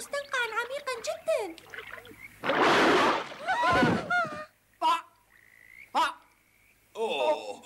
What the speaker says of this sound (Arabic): إنه ضفدع كبير.